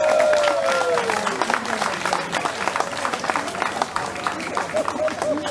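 Audience applause at a shanty choir festival, a dense wash of clapping from the crowd throughout, with a person talking over it.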